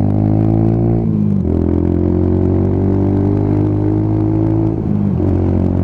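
A Lexmoto Tempest GT 125 motorcycle's exhaust drones loud and close with a steady harmonic engine tone, dipping briefly twice as the revs shift, heard alone without talking.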